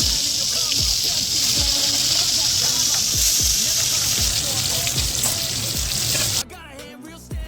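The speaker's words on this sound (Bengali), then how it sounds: "চিংড়ি মাছগুলো এবার ভেজে নেবো।" Prawns for biryani sizzle and crackle loudly in hot oil, a steady dense hiss with occasional pops and stirring, the frying cutting off abruptly near the end.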